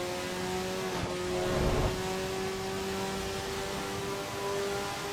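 Porsche 911 GT3 RS engine in a racing video game, a steady mid-pitched drone with a brief rise in revs near the start, consistent with gear changes, continuous and fairly loud with no talking.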